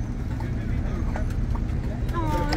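Steady hoof clip-clop from a horse-drawn carriage in Ensenada, Mexico, rolls along under constant background chatter and street noise, with a brief higher whinny-like tone near the end.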